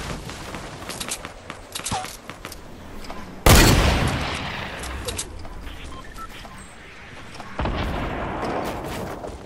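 Booming rocket launches and explosions from the shooter game Killers, one loud blast near the middle and another later, over a background of scattered distant gunfire and faint voices.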